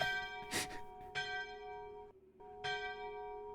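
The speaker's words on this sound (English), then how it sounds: "The bell was too powerful." Alarm bell in the video game Conan Exiles struck repeatedly, several loud, ringing clangs with long sustained metallic tones and a brief gap before the final strike.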